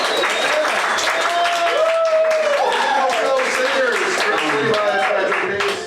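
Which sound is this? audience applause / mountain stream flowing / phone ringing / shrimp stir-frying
audience applause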